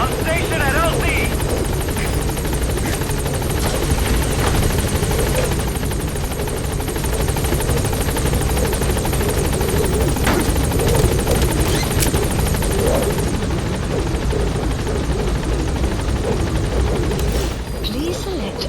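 A helicopter in a video game drones loud and steady the whole way through, its continuous rotor roar holding even as a voice speaks over it.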